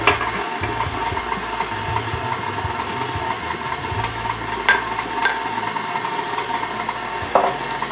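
An electric mixer blends flour into gingersnap cookie dough, giving a steady, continuous whirring drone with faint irregular knocks, running alone without any talk.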